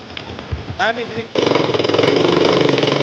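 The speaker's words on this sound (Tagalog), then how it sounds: "Yan yung mga motor dito guys." A motorcycle engine revs up loudly after a brief stretch of nearby talking, then runs steadily with a rough, pulsing drone.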